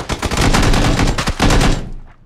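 Rapid automatic gunfire from across the way in the battle royale game PUBG, a dense close string of loud shots with a short gap, then fading out.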